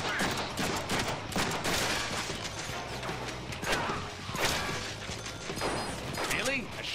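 Shotgun blasts and mechanical reloading clatter fill a Deadpool video game scene, with repeated sharp bursts close up over busy game noise and a faint voice.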